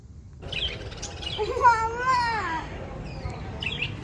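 A few short, high bird chirps sound in quick bursts, while a person's voice rises and falls between them.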